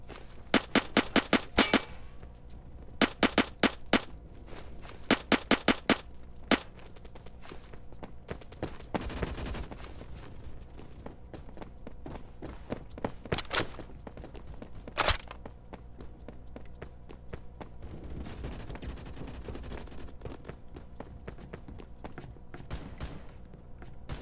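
Gunfire in the Roblox shooter Phantom Forces, with SKS rifle play: rapid bursts of sharp shots early on, scattered single and double cracks later, and footsteps and thuds between them. There is no talking.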